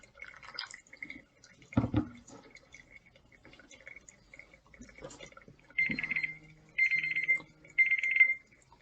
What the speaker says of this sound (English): And as you can see, the timer is finished.